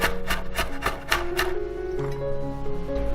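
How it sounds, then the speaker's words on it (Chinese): Garlic minced with a knife on a cutting board. About five quick, sharp chops land in a rhythmic burst and then trail off, with soft music behind. "再来剁一些蒜末"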